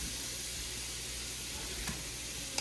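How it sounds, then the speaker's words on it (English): Butter melting in a pot for a seafood boil sauce, giving a steady close hiss and gentle sizzle with a faint tap near the end and no one speaking. "we're gonna put our butter in the pot and let that melt down"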